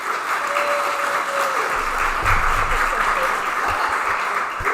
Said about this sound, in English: So round of applause for Hayley